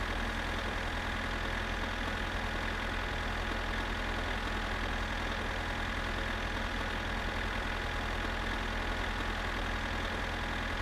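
A tractor engine in a video game hums and idles steadily, with train wheels on track faintly blended in underneath, a constant drone with no pauses.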